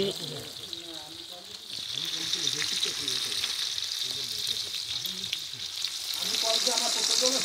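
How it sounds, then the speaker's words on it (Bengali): Cloves and cinnamon sizzling as they fry in oil for a picnic meal, a steady close crackling sizzle that swells with stirring, while people talk throughout. "এই যে লং দিলাম, দারুচিনি দিলাম"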